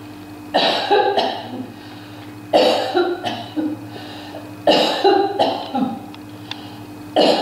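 A person coughs hard three times in evenly spaced bursts, each a cluster of harsh, close coughs, while testing a face shield indoors over a steady low hum.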